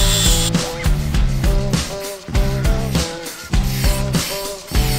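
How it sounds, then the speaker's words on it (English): A flap disc grinder cleans rust off trailer axles for a toy hauler build, a loud close grinding with a pulsing, stuttering rhythm as the disc bites and eases off the metal, and no talking. "taking the flappy disc over it, give it a bit of a clean up"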